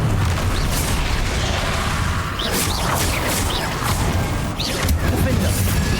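Spell blasts in the video game Hogwarts Legacy, a continuous dense barrage of booming explosions and crashes during combat, loud and close with a few brief swooshing bursts layered over the din.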